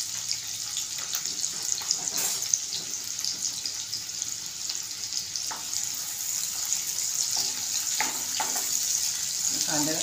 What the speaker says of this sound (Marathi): लाल करून घेते कांदा।